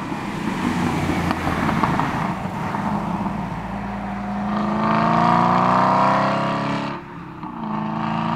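A supercharged 600 hp Aston Martin V8 Vantage drives on a damp road, its engine a steady close rumble that swells into a rising drone before briefly dipping and carrying on.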